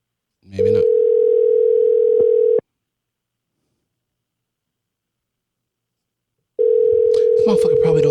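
A telephone ringback tone while calling someone: a steady, loud tone about two seconds long, then a pause of around four seconds, then the tone again, with rustling and faint voices over the end.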